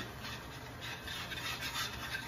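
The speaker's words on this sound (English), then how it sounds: "scrape the pan a little bit, get all those bits off" A utensil scrapes a pan while a sauce is made, loosening the browned bits from the bottom, giving a continuous close rubbing scrape with no pause.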